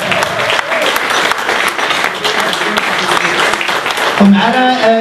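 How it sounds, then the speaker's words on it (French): Loud, sustained applause from an audience at a gala evening, clapping filling the space, with a voice rising over it near the end. "J'espère que vous allez les applaudir tous ensemble"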